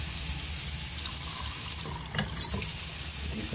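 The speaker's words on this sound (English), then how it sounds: "Decent pressure on the faucet also." Water runs from a bathroom sink faucet with decent pressure as a steady rushing flow, with a few brief splashy bursts near the end.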